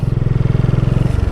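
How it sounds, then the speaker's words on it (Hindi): A motorcycle rides along a roadside on a long trip through northern India, its engine thrumming close and loud with a fast, even pulsing rhythm that eases slightly near the end. "मोटरसाइकिल के सफ़र का ये आनंद है"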